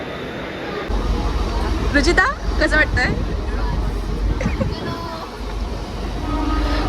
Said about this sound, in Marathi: जरा ट्रेन आली आता.